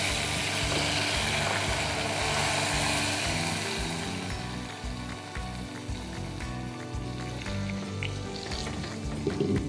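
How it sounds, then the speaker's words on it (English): Steady crackling sizzle of blended curry ingredients frying in hot oil, loud and continuous, with faint clinks and stirring noises throughout. "The sweet sound of sizzle of ingredients in oil, I just love it."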